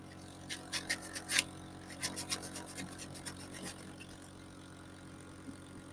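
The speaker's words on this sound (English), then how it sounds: "I always back my sandpaper up with a little bit of backing pad" Sandpaper backed by a small pad scrapes in quick bursts of short, close rasping strokes, busy at first and then thinning out to a few scattered scratches over a low background hum.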